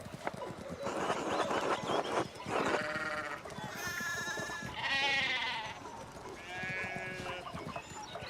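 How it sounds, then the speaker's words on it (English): Sheep in the video game Pentiment bleat several times in wavering calls, close and fairly loud, over a busy background of hoof clatter and farmyard bustle. "we need to get these sheep under control"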